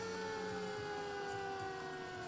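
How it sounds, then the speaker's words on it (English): A coastal EMS ambulance from Milford passes in a Santa parade, its siren holding a steady, faint wail throughout amid low street background, with no speech. "As we have a coastal EMS Milford ambulance."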